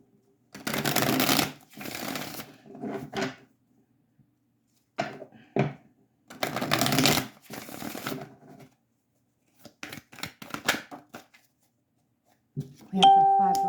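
Tarot cards are shuffled and pulled in several loud, crisp bursts of riffling and flicking, separated by silent pauses, with a short bright chime near the end.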